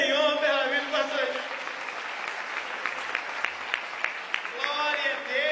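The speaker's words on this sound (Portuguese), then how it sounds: "Você pode aplaudir o Senhor pela vida do pastor." A church congregation claps together in worship, dense rhythmic applause running throughout, with someone speaking loudly over it at the start and end.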